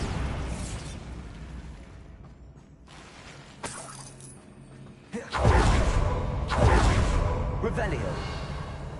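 Bombarda blasting spell in Hogwarts Legacy, a sharp detonation with shattering debris and a whooshing burst, followed by another strong blast and clattering fragments, loud and near, with a voice speaking earlier.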